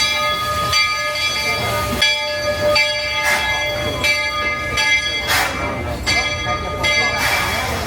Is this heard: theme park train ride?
yes